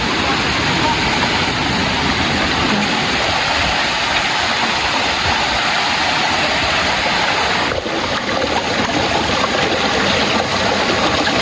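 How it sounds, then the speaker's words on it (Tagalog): Rushing water roars loudly and constantly, a dense, unbroken wash of sound from Balon Falls close by, its flow strong after frequent rain. "Malakas yung agos ng tubig kasi lagi nang umuulan dito sa amin."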